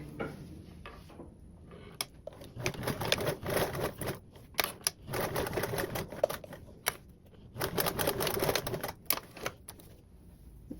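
A sewing machine stitching a seam along the side of a blanket backpack, running in rapid mechanical bursts that stop and start several times, close and moderately loud.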